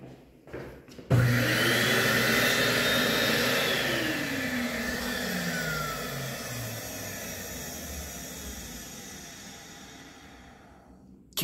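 An Excel Dryer XLERATOR hand dryer with a 1.1 nozzle kicks on after a faint click and roars with a broad, rushing airflow, its pitch sweeping and wavering before the noise eases slightly toward the end, close and without talk.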